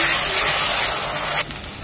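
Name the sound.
ginger garlic paste frying in oil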